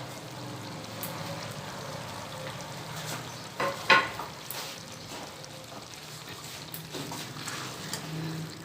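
Okra being stirred and fried with pickling spices in a pan, a soft sizzle with scraping spoon strokes and a few louder clinks midway, no talk.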